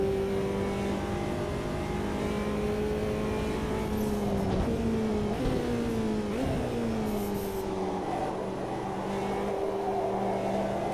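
A Mercedes race car in a sim racing game holds a steady engine drone with harmonic tones that waver and shift through gear changes, loud and continuous throughout.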